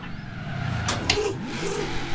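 Car in the Forza Horizon 4 racing game taking a very sharp corner at speed on the handbrake, with a loud steady engine drone, a brief tyre scrape and a rising rev as it slides through.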